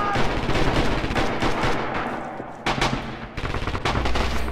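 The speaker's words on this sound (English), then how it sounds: "there's a machine gunner, so watch out" Machine gun fire rattles through a Red Orchestra 2 multiplayer battle at Stalingrad, dense rapid bursts and scattered gunshots that briefly thin out before the loud shooting resumes.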